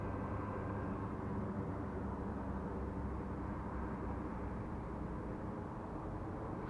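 A small Silverlit toy remote-control biplane flying on a calm day, its tiny motor giving a steady, faint buzzing drone throughout, with no voices.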